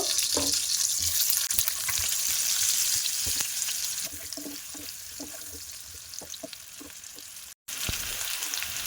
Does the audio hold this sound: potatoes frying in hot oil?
yes